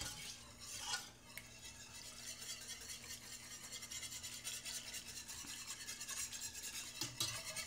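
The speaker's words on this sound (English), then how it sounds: "So I'm just going to stir this all in." A white sauce is stirred as milk is worked in, a soft continuous scraping and swishing of a utensil against the pan with an occasional light clink, quiet and close with no talk.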